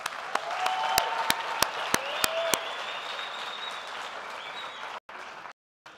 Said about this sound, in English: Can we quickly give another round of applause there to the Africa Siyanqoba Choir?